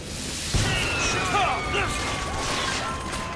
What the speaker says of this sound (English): Did you just shoot a firework at me?